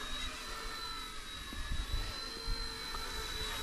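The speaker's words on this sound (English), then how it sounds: "Bell Jet Ranger." An RC Era Bell 206 Jet Ranger model helicopter flies on a windy morning, a steady whining turbine-like drone with a high tone that stays constant throughout, close and continuous.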